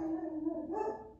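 Household dogs barking in a room, a short burst of tonal yelps rising near the end, fairly faint and close behind a steady background.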